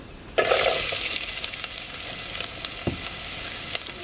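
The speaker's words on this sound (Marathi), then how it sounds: "तेल तापलाय कांदा घालूया" Sliced onion dropped into hot oil in a pan over a village wood-fired clay stove bursts into a loud, steady sizzle that holds, with light stirring scrapes on top.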